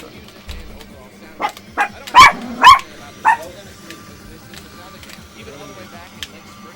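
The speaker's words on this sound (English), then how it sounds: "We have a lot of dog barking on this stream, sorry." A dog barks in a house, a few sharp barks and yips clustered together, fairly close, then a lone faint bark a few seconds later, over a quiet room hum.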